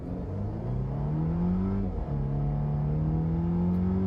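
A heavy 2018 Volvo XC60 Inscription SUV, around 6,000 pounds, accelerates hard toward 60 mph, its engine note rising steadily through smooth gear shifts, one brief dip near the middle, loud and close with no talking.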